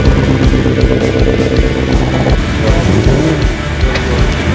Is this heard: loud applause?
no